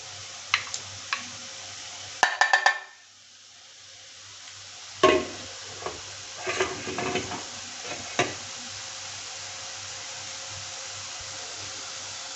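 Gram flour boondi drops frying in hot oil for laddu, a steady close sizzle with sharp metallic taps and clinks scattered through it and one brief lull.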